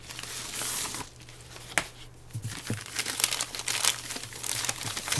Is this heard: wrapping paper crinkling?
yes